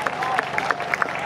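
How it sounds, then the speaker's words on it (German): A crowd at a Pride demonstration in Duisburg gives a brief round of applause, with a few sharp, distinct claps standing out over a murmur of voices close by. "ein ganz toller Applaus."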